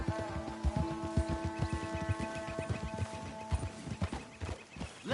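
Horses walk in Red Dead Redemption 2, their hooves clip-clopping in a steady, close rhythm of repeated thuds over a faint tonal game ambience.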